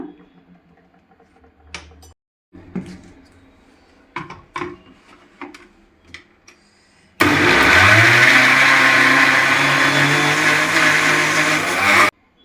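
A kitchen mixer grinder whirs loud and steady as it grinds peanuts into homemade peanut butter, running continuously for several seconds after earlier quieter clatter and handling noises.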